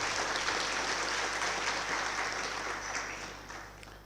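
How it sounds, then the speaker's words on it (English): Audience at a public university lecture in honour of an archbishop applauds, a soft, distant wash of clapping that gradually fades toward the end over a low background hum. "Can we please give him a round of applause for that message?"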